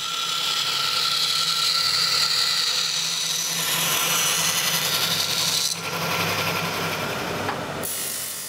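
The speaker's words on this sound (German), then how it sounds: "Jetzt schneidet Guido noch die überschüssigen Ränder ab." A power tool cuts the excess edges off pressed buffalo horn plates, giving a steady, loud, rasping whine that holds for several seconds before easing off near the end.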